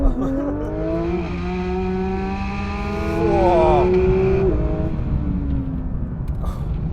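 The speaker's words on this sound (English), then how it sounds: "let's see what this GT3 feels like to drive" A Porsche 911 GT3 engine revs loud and close as the car pulls away, its pitch climbing and dipping through a smooth rising howl over a steady low rumble.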